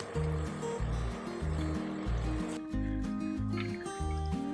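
Rice flour thattai fry in hot oil with a continuous hiss of bubbling, sizzling close by. A steady melodic music track plays over it.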